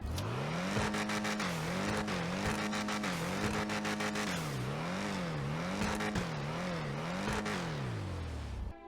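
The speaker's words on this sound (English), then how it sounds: "Let's see what the Karin Previon sounds like" Karin Previon sports car in GTA Online, its engine revving hard and repeatedly, climbing and dropping in pitch through rapid gear-like cycles, loud and close with no talk.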